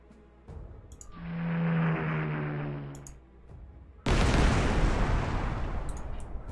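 Artillery fire in the World War II strategy game Panzer Corps 2 starts as a rising, whistling roar, then a loud, harsh blast lands and rumbles on close by.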